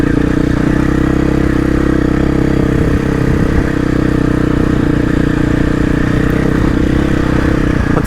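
KTM 500 EXC-F dirt bike engine on a rugged hill in enduro map with traction control off: a loud, close, continuous four-stroke drone with steady throttle and rattling clatter, no voices.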